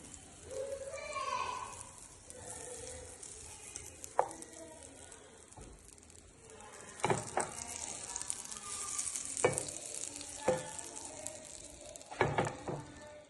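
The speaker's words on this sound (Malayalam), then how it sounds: "നമുക്ക് നന്നായി മിക്സ് ചെയ്യാം ഫുൾ മിക്സ് ചെയ്യണം" Milk and a piece of butter are stirred together in a hot pan while making bread pizza, giving a soft sizzle broken by sharp scraping and tapping strokes of the spoon.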